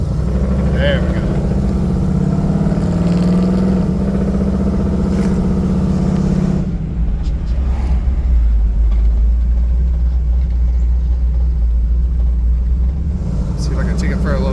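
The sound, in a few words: 1984 Chevy K5 Blazer engine running while warming up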